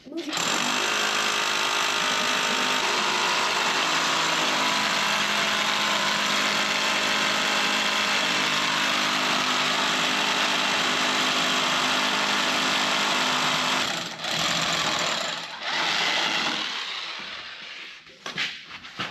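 A power drill bores holes while installing a Challenger 10K car lift, a loud, sustained droning whine for about fourteen seconds, then stopping and restarting in short bursts.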